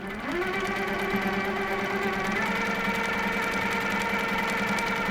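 A sewing machine stitches thread on a painted fabric piece in a steady, continuous mechanical whir with a rhythmic rapid stitching pulse, its pitch rising slightly as it starts, alone without talk.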